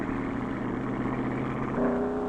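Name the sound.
racing car fishtailing at takeoff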